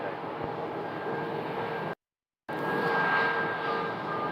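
Airplane engine drone at an airport gate in hot Phoenix, a steady broadband roar with a faint whine, continuous apart from a short silent gap midway.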